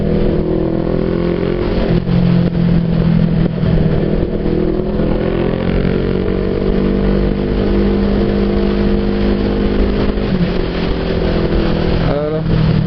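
Motorcycle engine droning steadily while riding on a fine day, a continuous loud hum with wind rumble, a rider speaking over it throughout.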